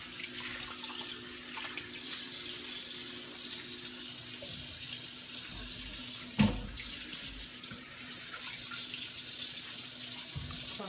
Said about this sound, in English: potatoes inside of the water and rinse them off real good